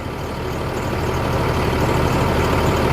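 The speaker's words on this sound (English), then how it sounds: "I can start the truck" A large truck engine running at a steady loud idle, a dense rumbling drone that holds constant throughout with no voices.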